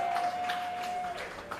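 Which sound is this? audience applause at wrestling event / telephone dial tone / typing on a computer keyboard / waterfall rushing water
audience applause at wrestling event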